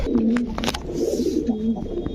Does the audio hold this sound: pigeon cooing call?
yes